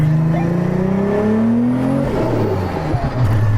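Ferrari SF90 accelerating hard in second gear from about 50 km/h, its engine note climbing steadily and loud for a few seconds before a gearshift drop, then pulling on again close up.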